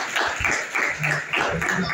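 An audience at a college awareness program on new laws claps to welcome police officers, a steady, moderately loud patter of hands with a few louder individual claps standing out, no talking.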